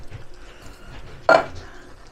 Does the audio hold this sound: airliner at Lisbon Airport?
no